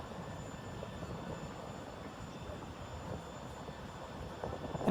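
Ryanair Boeing 737-800 taxiing, with a steady, low, broadband engine rumble and whine heard from inside the cabin, even and moderately quiet throughout.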